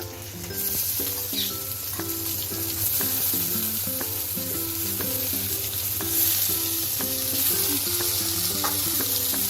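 Oil sizzling and frying in a pan with ginger and garlic for a jackfruit curry, a steady close hiss with stirring and clinking sounds over a continuous low hum.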